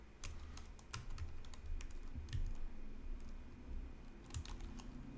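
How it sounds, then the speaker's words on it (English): Rapid, uneven clatter of keys on a computer keyboard as a restaurant menu is typed out, close and steady with short pauses between bursts. "I'm reading as I'm typing, so I might mistype something."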